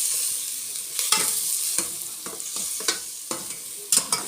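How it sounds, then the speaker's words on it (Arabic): Whole cinnamon, cardamom pods, cloves and cumin sauté in a pot with a bright, steady hiss of frying, cut by repeated scraping stirs at an irregular rhythm close to the pan. "هنزل بيهم كده يتشوحوا."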